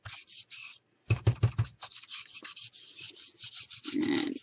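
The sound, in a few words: rubbing tea dye distress stain over kraft resist background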